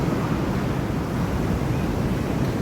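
Rough, heavy sea surf churning against the coast at Kallamvalappu, Chembirikka in Kasaragod, Kerala, during a severe sea surge, a dense continuous roar with wind buffeting the microphone throughout.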